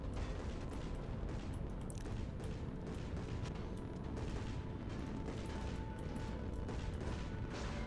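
Warship guns fire in the space combat game Nebulous: Fleet Command, making a dense, continuous rumble of overlapping booms and crashes that stays steady and fairly distant throughout, with no voices.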